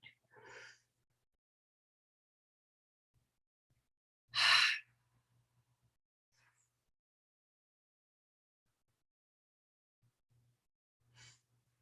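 A person does slow, deep breathing with long gaps of near silence between soft breaths. One audible inhale or exhale is clearly louder in the middle, and the rest are faint and close.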